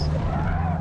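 Tyres of a Subaru STI 2019 skidding through a drift in Forza Motorsport, a steady loud engine drone with a continuous scrubbing tyre squeal over the top.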